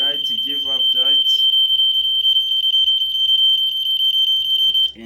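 A flood monitoring system's buzzer alarm sounds a steady, continuous high-pitched electronic tone throughout, loud and close, while a person speaks briefly at the start.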